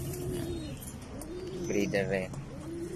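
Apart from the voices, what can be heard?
racing pigeons cooing in loft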